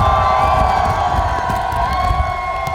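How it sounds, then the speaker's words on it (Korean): A festival crowd at the 500-year-old Gijisi tug-of-war festival in Dangjin cheers and shouts loudly and steadily, with whoops and a sustained roar filling the space. "자, 준비하시고 다같이 박수와 함성!"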